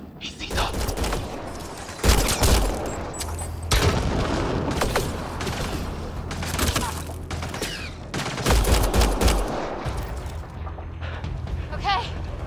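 Heavy gunfire in the sci-fi video game Mass Effect: Andromeda, with rapid bursts of shots and booming impacts that come in repeated loud waves, while voices speak over the battle.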